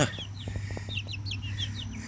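Chickens clucking in soft, quick bursts, several short calls in close succession over a low steady hum, near and moderately loud.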